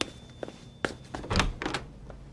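Someone knocking on an apartment door in a Turkish sitcom scene: a few separate sharp thuds spaced unevenly, close and fairly quiet, with a small bump of handling noise in between.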